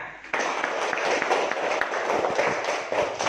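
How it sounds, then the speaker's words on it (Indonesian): A group claps in a classroom or training session, with many overlapping hand claps starting abruptly and continuing briskly at close range, and a voice is faintly audible underneath. "tepuk tangan semuanya"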